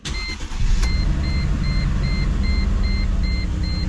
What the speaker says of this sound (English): I'm gonna go ahead and start the car. I want to see what it does.